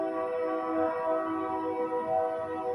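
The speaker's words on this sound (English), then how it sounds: "when I'm outside, I can hear a train." A train horn blares in long sustained tones over the rumble of a passing train, heard outdoors at moderate distance, steady and alone with no talk.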